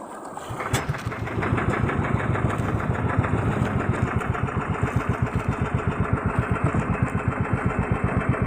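A boat engine catches and settles into a loud, close, rhythmic chugging on choppy sea while tuna fishing, pulsing steadily for several seconds, with no talking.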